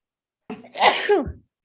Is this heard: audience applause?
no